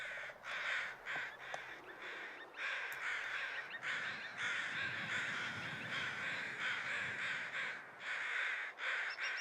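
Crows caw repeatedly in the snowy wilderness of the survival game The Long Dark, harsh calls overlapping in an irregular rhythm over steady wind, some near and loud, others farther off.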